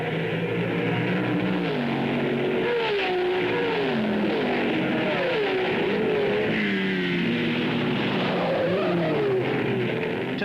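1967 sports-car endurance racing at Brands Hatch, Porsches and Ferraris: several engines rise and fall in pitch as the cars pass and change gear, a continuous loud mix of near and more distant revving.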